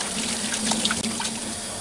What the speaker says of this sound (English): I turn on the water so that there's a little stream